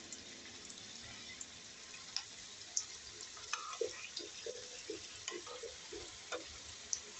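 A katori dessert frying in oil over a low gas flame, a quiet gentle sizzle with scattered soft pops and ticks throughout.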